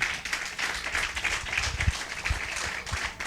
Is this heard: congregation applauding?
yes